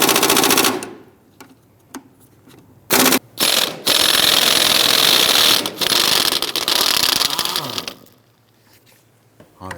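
Ratchet wrench removing bolts on a 1999-2004 Jeep Grand Cherokee during fuel pump replacement: loud, rapid clicking bursts of varying length, close up, separated by short quiet pauses.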